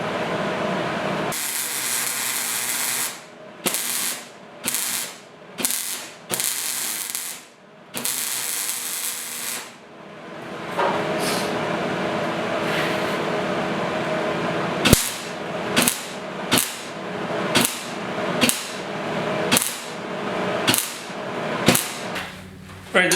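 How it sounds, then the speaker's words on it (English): Welding a scrap steel dust collection port for a SawStop table saw: loud crackling, hissing bursts of arc welding in uneven runs, broken by short pauses and sharp clicks between passes. "weld this up."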